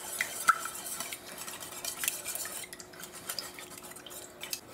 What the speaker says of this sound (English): So I'm just going to break up the eggs. Give this a mix.